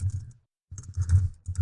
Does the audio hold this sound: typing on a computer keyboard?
yes